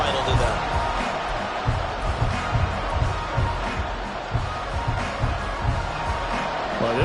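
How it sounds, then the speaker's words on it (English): Loud football stadium crowd roaring steadily on a third-and-10 play, a dense continuous wash of voices with scattered louder bursts throughout. "this crowd is making an impact right now"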